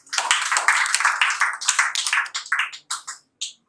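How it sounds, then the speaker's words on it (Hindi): An audience at an open mic poetry and storytelling event in Delhi claps in a short, fairly close burst of applause. The clapping gradually thins to a few last scattered claps. "आप लोगों के लिए एक बार ज़ोरदार तालियां बजाएं।"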